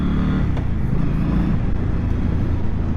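A 2023 Indian Scout motorcycle engine pulls steadily under acceleration, a loud, continuous low rumble with dense engine harmonics and wind roar throughout, and no voices.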